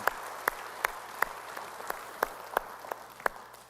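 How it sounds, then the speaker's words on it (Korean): During a Sunday church service, a few isolated sharp claps sound at a slow, roughly steady pace against a quiet room. "우리 찬양하신 주님께 영광의 박수 올리겠습니다"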